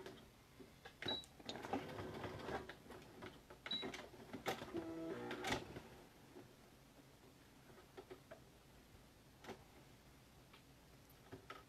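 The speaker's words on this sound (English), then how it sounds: "Just keep sewing, just keep sewing." A sewing machine stitching a fabric crayon roll: rapid mechanical clatter in short runs for the first several seconds, then quieter intermittent ticks and taps as the stitching stops and starts.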